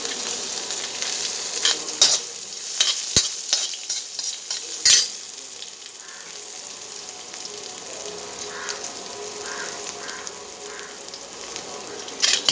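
Onions and urad dal sizzle and fry steadily in a pan for karamani poriyal, with a continuous crackling hiss broken by a few sharp scrapes and knocks of stirring, close and alone.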